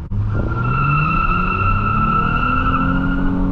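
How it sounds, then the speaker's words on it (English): A 2005 Nissan Altima 3.5 SE launching hard, its tires squealing in sustained wheel spin over a loud, steady engine roar as the revs climb, close and continuous with no talking. "that was some wheel spin"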